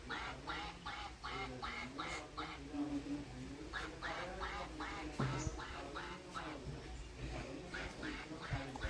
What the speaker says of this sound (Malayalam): ഈ താറാവുകുട്ടിക്ക് ഒച്ച കേൾക്കും കേട്ടോ